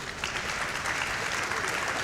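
An audience at SGDQ 2017 claps steadily during a Mega Man X speedrun, a dense wash of applause that holds at the same level from start to finish.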